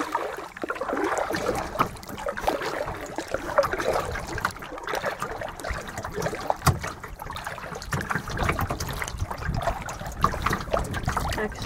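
A kayak is paddled across a calm lake bay among islands, with soft, repeated water splashes and trickles as the blades dip and drip. The sound is faint and close, with no talking.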